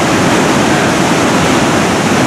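Niagara Falls waterfall heard from a tour boat, a loud steady roar of crashing water filling the whole clip with no voices.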